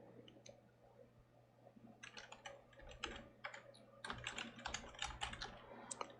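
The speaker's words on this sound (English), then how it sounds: "we just type in our CPU name" Fingers type a CPU name on a computer keyboard in quick bursts of crisp, close key clicks over a steady low hum, starting sparse and growing denser toward the end.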